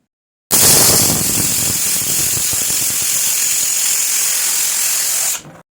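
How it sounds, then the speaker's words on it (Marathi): Steady, loud hiss of a pressure cooker whistle venting steam over high heat while cooking brinjal and potato, running continuously for about five seconds before cutting off abruptly. "मोठ्या आचेवर कुकरच्या तीन शिट्ट्या करून आपल्याला ही वांगी आणि हा बटाटा शिजवून घ्यायचा आहे"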